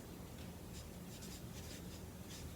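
A pencil or pen scratches steadily on paper while a multiplication problem is written out by hand, a faint, continuous close-up scribbling with no talk.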